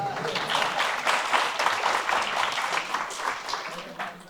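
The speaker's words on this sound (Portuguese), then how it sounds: "Dá uma salva de palmas para a pastora." A church congregation applauds for the pastor with steady, dense clapping that stays strong throughout and tapers slightly near the end, with a few voices mixed in.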